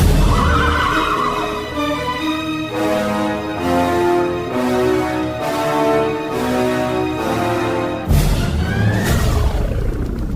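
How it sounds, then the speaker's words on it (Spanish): Horses neigh loudly and hooves trample in a dramatized Bible radio play, whinnies rising over a dense, continuous wash of sound effects that swells and shifts near the end. "los caballos, los cuales pisotearon a Jezabel"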